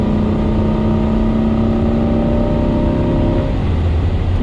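Chevrolet Corvette C8 lapping Spring Mountain race track, a steady engine drone with a sustained tone holding through most of the run, then shifting lower near the end, close and loud with no talk.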